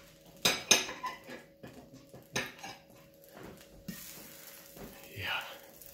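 A spatula clanks and scrapes against a hot cast iron pan while mixing in butter, with several sharp metallic knocks early on, then quieter scraping and a faint sizzle.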